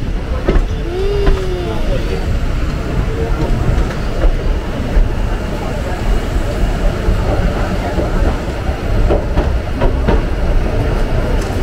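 Heard from a station platform, a steady, loud rail rumble with faint clicks as a long Rajdhani express train and its coaches sit and move at the platform, continuous throughout.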